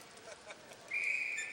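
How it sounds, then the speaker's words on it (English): A referee's whistle blows at a power hockey game: a single sustained tone starts about midway and holds for roughly two-thirds of a second amid faint arena background. "And we have a whistle"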